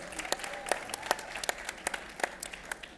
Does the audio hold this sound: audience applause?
yes